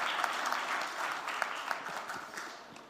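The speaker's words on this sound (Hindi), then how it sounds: "तालियों के साथ आपका स्वागत।" Audience applause at a multilingual poetry recital welcoming a poet reading a Hindi rendering of a Konkani poem; a steady, moderately distant wash of many hands clapping with a few sharper individual claps, no talking.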